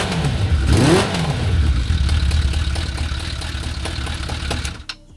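A quad fitted with a motorcycle engine idles and revs with a rapid, rattling putter and an exhaust leak, rising briefly near the start, then settling into a steady run before cutting off abruptly near the end.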